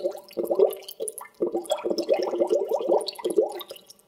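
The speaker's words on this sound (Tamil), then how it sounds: "பபுள் சவுண்டு வருது." Bursts of water bubbling and gurgling in uneven clusters, with short pauses between them, fairly close.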